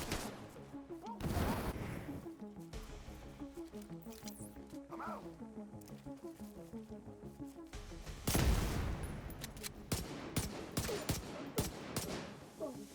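Gunfire in The Division 2 video game, bursts of rapid shots over game music, with a loud flurry of shots toward the end.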